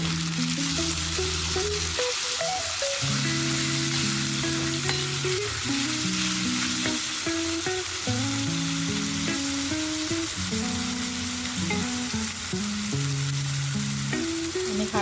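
Onion and tomato fry in a pan with a steady close sizzle, while music plays throughout over the frying.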